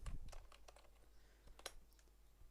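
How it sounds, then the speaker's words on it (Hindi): Typing on a computer keyboard: scattered, quiet key clicks at an uneven pace over a low steady hum, with no talking. "ये आप टाइप करेंगे, लिखेंगे।"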